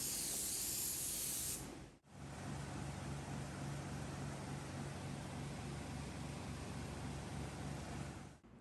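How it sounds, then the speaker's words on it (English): Semi-gloss lacquer sprayed over a shellac-coated woodwork piece, a steady close hiss that runs almost continuously, with a brief break near the two-second mark before the spray resumes and holds to the end. "Then I sprayed a coat of semi-gloss lacquer on top of the shellac."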